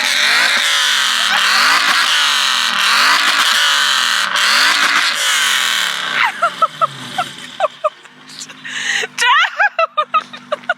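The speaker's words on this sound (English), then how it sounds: "I keep revving my car when Jake's outside it and making him jump." An Aston Martin engine revs hard in rhythmic repeated surges for several seconds, loud and close, then cuts off and leaves a few short sharp bursts and pops.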